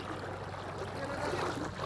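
Water of the Saraswati river runs steadily past where people bathe, a dense, constant rushing and trickling close by, with faint voices underneath.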